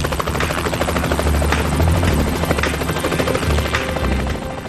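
A helicopter flies over rugged Hawaiian terrain, its rotor a steady, loud, close thudding drone with engine whine that holds throughout with no break.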